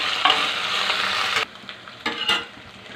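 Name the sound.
frying ginger paste in oil in a pan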